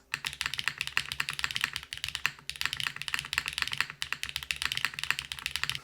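Fast, continuous typing on a mechanical keyboard with HMX switches and an 1800 layout, crisp clacky keystrokes in quick irregular bursts with brief pauses, close up.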